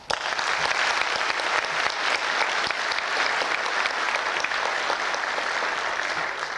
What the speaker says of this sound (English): let's give them one big collective hand.